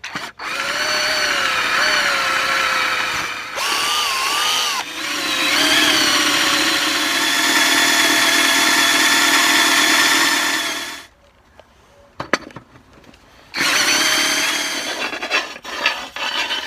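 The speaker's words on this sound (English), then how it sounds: "So I'm going to drill a pilot hole first." A power drill bores a pilot hole through a steel winch skid plate. Its close, loud whine shifts in pitch and runs for about ten seconds, pauses briefly with faint clicks, then starts again.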